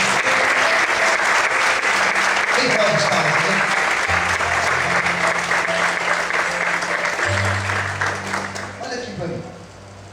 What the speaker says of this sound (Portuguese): Você pode aplaudir o Senhor nessa noite?